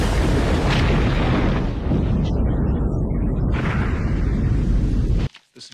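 A torpedo explodes in the 1990 film The Hunt for Red October, a huge sustained booming roar that fills the scene for several seconds before cutting off abruptly.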